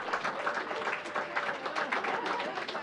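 An audience at an awards ceremony claps in steady, dense applause, a continuous patter of many hands with a faint voice in the background.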